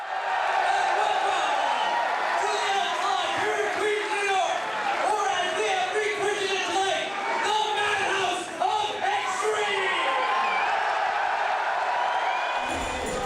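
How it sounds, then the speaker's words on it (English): Lively church service inside an Elks Lodge, with a dense, steady wash of crowd noise, music and clapping filling the room at close range, and no break for the whole stretch. "if you can hear all the music and clapping and stuff, we're actually in the middle of a church service"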